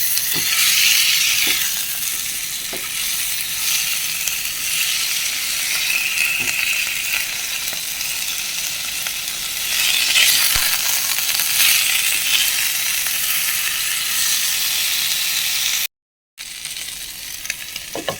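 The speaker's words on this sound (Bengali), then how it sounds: "নেড়ে নেড়ে ভালো করে ভেজে নেব" Pointed gourd (potol) sizzles loudly in a pan with salt and turmeric while a utensil stirs and scrapes through it, with a brief moment of silence near the end.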